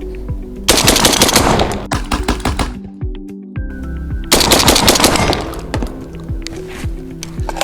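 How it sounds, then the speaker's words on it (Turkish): Derya Arms MK20 shotgun fired in quick succession, loud close blasts in two rapid strings with a brief quiet gap between them, each shot followed by a short ringing echo and mechanical clatter. "Biz 5'li ile atış yapalım şimdi."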